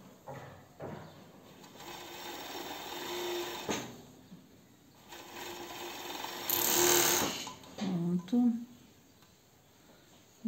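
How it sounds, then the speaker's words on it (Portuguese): An overlock sewing machine stitching the lining of a bikini-style bra with elastic at its base runs in several close, whirring bursts separated by pauses, and a person talks at moments between them. "Agora eu vou passar uma overlock aqui para poder fixar"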